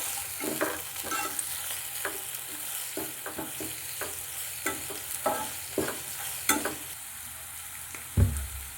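Cabbage, capsicum and tomato are stirred in a pan, with a steady background sizzle broken by repeated scraping strokes of a spatula at an irregular rhythm, close and clear, with no talking.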